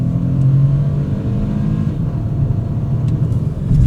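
A 2025 BMW 218 Gran Coupe with a turbocharged three-cylinder and dual-clutch gearbox accelerating, a loud, steady low engine drone heard from inside the cabin, with no talk.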